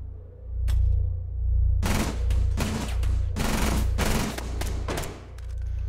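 Gunfire in Rainbow Six Siege on the Hereford map: after a quiet start, loud bursts of automatic fire and rapid shots come in clustered volleys over a low, steady rumble.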